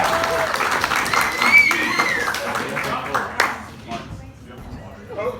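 Comedy-science show audience in San Francisco breaks into loud clapping and cheering, a thick burst of many hands that gradually thins and fades toward the end, with some voices in the crowd.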